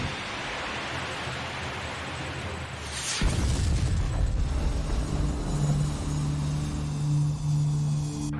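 A missile strikes a target aircraft: a steady roaring rush that suddenly deepens into a heavy, sustained booming blast, loud and rumbling to the end with no voices.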